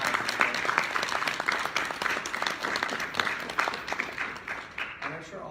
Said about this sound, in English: give a quick round of applause